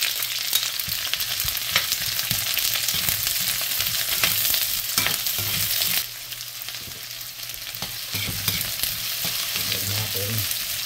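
Onions frying in a pan for adobong paa ng baboy, a steady hissing sizzle with occasional stirring scrapes, close and continuous, with no one speaking.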